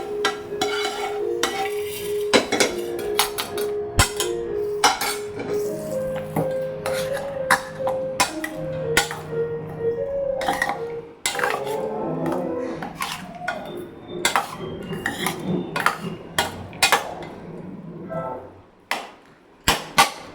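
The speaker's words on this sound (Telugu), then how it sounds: "పుల్ల అంతా ఇందులో వేసి పోపు కలిపేస్తున్నాను అన్నమాట" Metal spoon clinking and scraping against a pan, rapid irregular taps and rings of stirring, close by, with pauses near the end.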